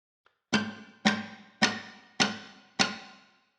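Five sharp chasquido percussive strums on a classical guitar, evenly spaced, each a muted slap with a quick decay, played alone and close.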